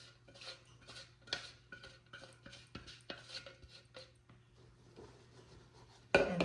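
A utensil stirs strawberry powder into a melted mixture in a pot with repeated light scraping and clinking strokes that fade toward the end, followed by a brief louder rustle.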